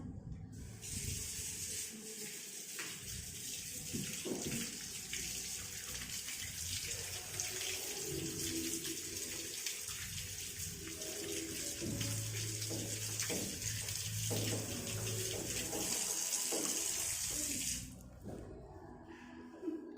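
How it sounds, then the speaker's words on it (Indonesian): Hands washed under a running tap in a midwifery normal-delivery care procedure, a steady close stream of water splashing into a sink for most of the clip before cutting off near the end. "Lalu kita mencuci tangan."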